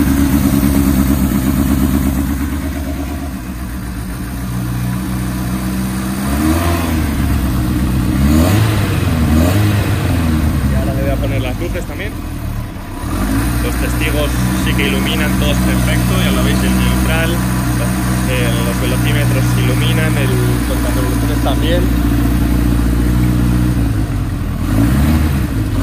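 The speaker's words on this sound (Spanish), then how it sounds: "El motor suena muy muy limpio, el escape es bastante silencioso." Kawasaki-based cafe racer motorcycle with a clean-running engine and fairly quiet exhaust, started and held at idle with occasional revs rising and falling, close and steady throughout, with someone talking over it.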